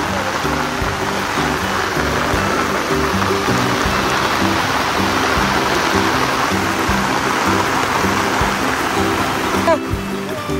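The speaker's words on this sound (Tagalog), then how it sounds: "Ulan, grabe lakas ang ulan" Heavy rain pouring steadily, a loud continuous rushing hiss with a low rumble underneath, close by and unbroken.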